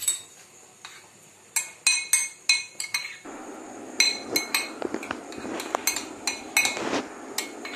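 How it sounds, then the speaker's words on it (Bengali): A spoon mixes tomato sauce into a mashed potato mixture in a bowl, giving sharp, repeated clinks and taps of metal against the dish in an uneven rhythm, close and clear, with softer scraping stirs between strikes. "সব শুদ্ধ দিয়ে আমি ভালোভাবে এটা একটা চামচের সাহায্যে মিক্স"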